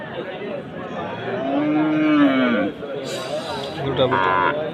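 A cow moos at a busy winter cattle market in Bangladesh, one long drawn-out low call rising and falling at close range, with the voices of people talking around it throughout.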